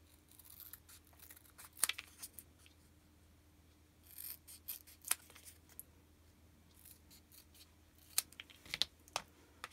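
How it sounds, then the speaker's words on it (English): Small scissors snip through craft foam in a few quiet, scattered cuts against a low, steady background hum. "These little scissors. I'll just cut this out quickly."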